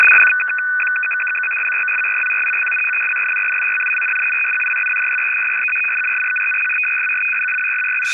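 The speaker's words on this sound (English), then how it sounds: "is also a number station, but it's an RTTY number station." A steady two-tone RTTY number station signal from Moscow, Russia, heard on shortwave radio, drones continuously, loud and unbroken, with a brief burst of static at the end.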